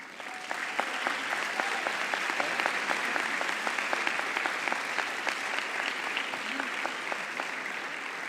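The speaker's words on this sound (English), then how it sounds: "Let's all give your parents and family members a round of applause" A graduation ceremony crowd for the MET class of 2025 applauds parents and family members, producing continuous, dense clapping that holds at a steady level from start to finish.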